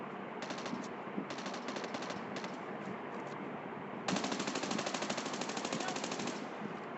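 Rapid automatic gunfire in Call of Duty Mobile battle royale comes in a few short bursts, then one longer sustained burst over steady background game noise. A voice is faintly heard now and then.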